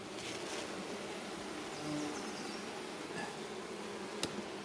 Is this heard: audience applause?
no